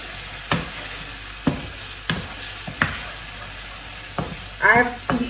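Paprika roasting in a pan: a bright, steady sizzle with sharp, regular stirring scrapes and knocks, recorded close and fairly loud.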